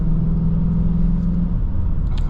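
A 2023 Volkswagen Jetta GLI on snow tires carries a steady, loud engine and road rumble as it is driven hard through curves. The drone holds even throughout, with a faint click near the end.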